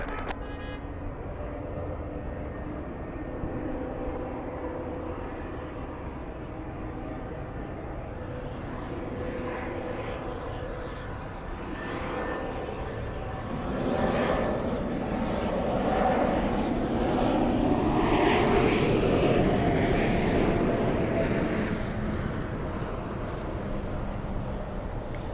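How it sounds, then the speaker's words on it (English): A Delta heavy jet airliner takes off from runway 24 left at Los Angeles International Airport, a steady distant engine roar that swells louder midway and holds, with faint voices at times. "Delta 991 Heavy, wind 24011, RNAV Del Rey, runway 24 left, clear for takeoff."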